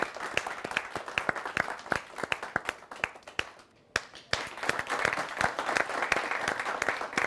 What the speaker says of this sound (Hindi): आइए हम तालियों के साथ स्वागत करते हैं हमारे आज के तीनों कवियों का।